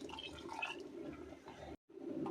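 Water pours steadily into a cooking pot for goat liver and broad bean curry, with a continuous splashing gurgle, briefly stopping for a moment before resuming, fairly quiet.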